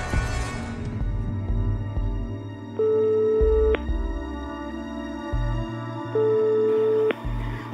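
Telephone ringing unanswered, a repeated electronic ring tone sounding in regular bursts with short gaps, loud and close over a faint low background hum.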